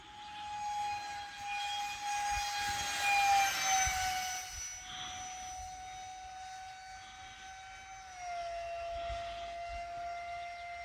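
A Rabid Models F104 electric ducted fan model jet flies overhead, its high, whining fan tone sustained and fairly distant, dipping in pitch as it banks through a slow roll, with wind noise underneath.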